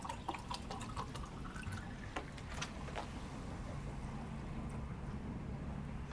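Effervescent plastic-bottled water fizzes in a glass, a faint, steady crackle scattered with tiny popping clicks.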